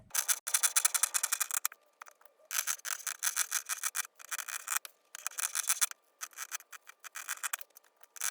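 Pinking shears trim fabric edges with close, crisp crunching snips in quick repeated runs, each run broken by brief pauses.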